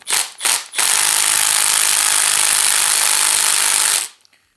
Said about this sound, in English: we'll have to pop the caliper off real quick.